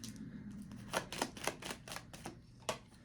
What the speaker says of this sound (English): let me pull 3 cards from here and we're done